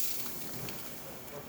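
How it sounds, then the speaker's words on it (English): An espresso machine's steam wand on a freshly serviced Lelit, releasing a strong, steady hiss of steam that runs unbroken and fairly loud throughout. "then you're going to have your strong and steady steam"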